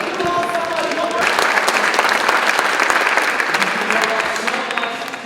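Audience at a student mayoral candidates town hall in New York applauding loudly and steadily, a dense close clatter of clapping that swells after the first second and fades slightly at the end, with faint speech underneath.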